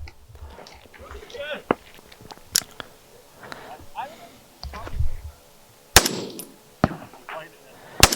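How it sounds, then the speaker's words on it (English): Rifle gunfire on a desert shooting stage: several sharp, loud cracks land at irregular intervals, mixed with gear rustle and handling noises close to the microphone, and speech comes and goes between the shots. "I see all the moon dust being kicked up by the muzzle blast there"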